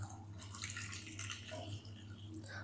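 Fresh water is poured from above into a wok holding cut potatoes in a home kitchen, making a loud, uneven splashing and gurgling pour that runs for a couple of seconds without speech.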